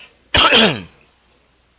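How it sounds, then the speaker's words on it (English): A single short, harsh throat clearing up close, a brief rasping burst surrounded by near silence. "So, let me clear my throat here."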